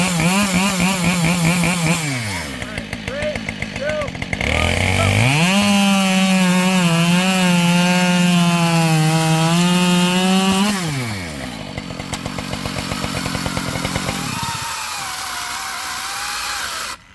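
A Dewalt 60V top-handle 14-inch battery chainsaw whines loudly and continuously, its pitch dropping and bogging as it bites into white oak, then revving back up, with no talking.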